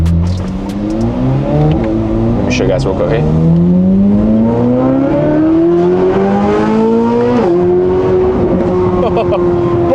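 Sports car in RZ mode with its exhaust valves open, engine revving and rising in pitch through a long loud pull, exhaust roar steady with a speaking voice over it.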